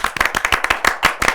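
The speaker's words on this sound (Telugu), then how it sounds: "గట్టిగా చప్పట్లు" Loud, sharp hand claps from a group of people in a radio-style interview setting, a quick uneven burst of overlapping strikes that continues steadily without talk.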